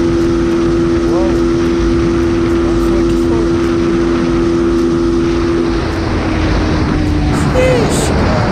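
Honda Winner X 150 motorcycle engine near top speed, a loud steady drone with strong wind rush that holds an even pitch for most of the stretch, then shifts and wavers slightly toward the end; no one speaks.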